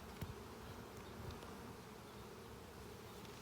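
A dense, steady drone of many honeybees buzzes at an open hive during an inspection, close and continuous with no talk.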